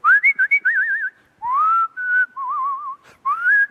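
Solo melodic whistling of a tune, clear and close, with bright gliding phrases and warbling vibrato notes separated by short breaths, no other voices.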